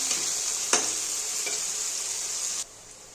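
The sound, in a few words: frying onion and green chillies in hot oil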